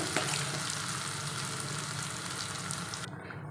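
Mango thokku mixture fries in oil in a pan, giving a steady, dense sizzle with a faint scrape of stirring throughout, loud and close, and the sizzle drops away abruptly near the end.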